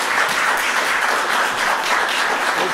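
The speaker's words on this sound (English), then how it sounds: "That's the first time we ever got an applause." Steady applause from a small audience at a council meeting after a motion passes, many hands clapping continuously at an even level for a few seconds.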